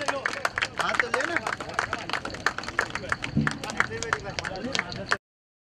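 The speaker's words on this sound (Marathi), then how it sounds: "जोरदार टाळ्या शैलूसाठी" Hand clapping for a batsman at a local cricket match between Dhanwin Vasai 11 and Maitri 11 Palghar, steady sharp claps from a small nearby crowd mixed with voices and babble, stopping abruptly.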